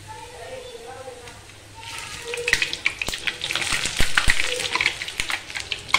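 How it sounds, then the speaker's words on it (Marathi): Puris fry in hot oil, a bright sizzling crackle that swells after a couple of seconds and stays busy, with someone talking over it at the start. "अशाच मी इथं सगळ्या पुऱ्या तळून घेणार आहे"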